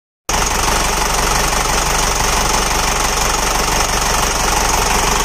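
An Isuzu 4HE1 turbo diesel engine runs after injection pump timing work, a loud, dense, steady clattering drone that starts abruptly and holds with a knocking, jackhammer-like texture.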